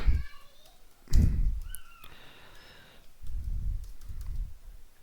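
Short bursts of clicky keystrokes on a computer keyboard typing a spreadsheet formula, sitting close and moderately loud between stretches of someone talking.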